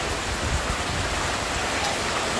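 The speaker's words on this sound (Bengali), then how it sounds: "ভালোই জোরে কিন্তু বৃষ্টি চলে এসেছে" Heavy rain pours steadily with wind outside a kitchen veranda, a dense continuous hiss of drops drumming on surfaces at an even, close level, with no speech.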